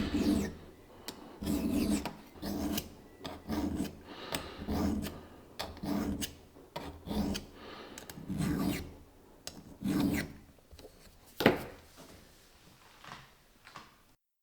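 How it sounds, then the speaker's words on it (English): Steel dovetail being deburred with a hand file: repeated rhythmic rasping strokes, close and fairly quiet, with a short sharp knock near the end and no talk. "Finally, some deburring and the dovetail is complete."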